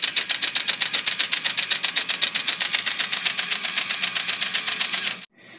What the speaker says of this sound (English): And here's another look at the fake engine running.